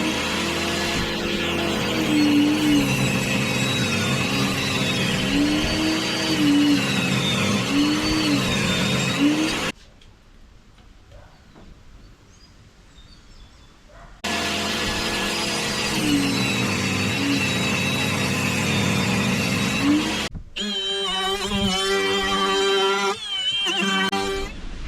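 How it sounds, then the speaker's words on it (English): A table saw squares up glued laminated wood pieces, running loud and steady, then cutting out for a few seconds of near silence before spinning up again, with a whining higher-pitched cut near the end. "Just gonna square them up on the saw."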